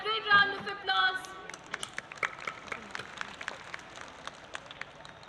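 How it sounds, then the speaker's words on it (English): At a school annual day, scattered audience clapping follows a children's group song, starting after a short burst of voice and music and continuing as uneven, moderately loud claps. "So please everyone give them a great round of applause."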